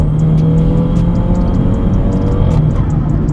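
A BMW F30 320i engine revs steadily with a deep, loud, continuous rumble and a smooth throaty tone throughout, close by.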